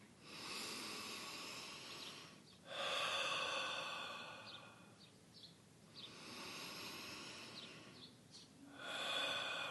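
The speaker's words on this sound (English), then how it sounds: "breathing in through the nose and out through the mouth." Slow breaths drawn in through the nose and pushed out through the mouth during a meditation exercise, close and audible, with breathy airy inhales and exhales repeating in long cycles of a few seconds and no talk over them.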